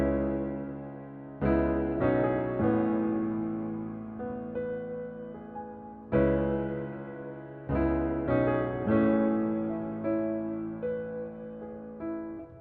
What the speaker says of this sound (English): I wanted the second piano melody to be kind of open.